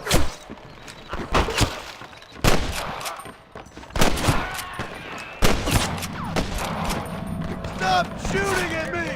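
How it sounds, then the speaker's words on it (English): Gunfire in the Western video game Red Dead Redemption: repeated loud close gunshots in irregular bursts, some rapid volleys, with a voice shouting between the shots. "Stop shooting at me!"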